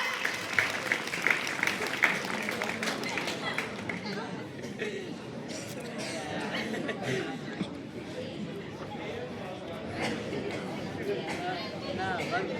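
Clapping for a children's number-game performance at a school, lively at first and then thinning out, with chatter, laughter and voices of people talking mixed throughout.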